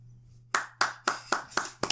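Single person clapping hands six times at an even, moderate pace, crisp and close, each clap sharp with a short decay over a low steady hum.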